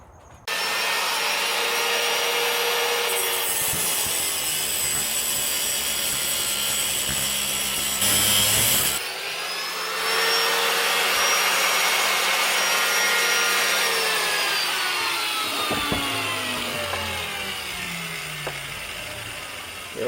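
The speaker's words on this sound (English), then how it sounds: "So we're going to do this with a grinder." An angle grinder whines steadily as it cuts through a hard steel rod, loud and close, its pitch dipping and recovering as the disc bites, with one brief pause midway.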